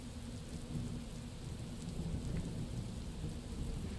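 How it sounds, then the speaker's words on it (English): Steady rain and low rumbling thunder in a video game, a continuous wash of rainfall with a deep rolling undertone, moderately quiet and without any talking. "I can't start a fire while it's freaking raining"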